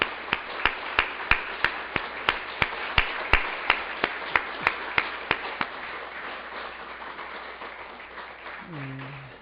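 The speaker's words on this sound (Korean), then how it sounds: "힘내시도록 우리 박수하겠습니다" A congregation at a Korean evening church service claps in a steady, even rhythm for a missionary, with crisp claps for several seconds that then blur into looser applause, and a voice speaks briefly at the end.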